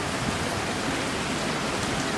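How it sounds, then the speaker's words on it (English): Steady rain falls outside a resort balcony in Florida, a dense, even hiss of drops spreading across the whole clip with no voices. "It is raining at the moment, but of course it will blow over soon."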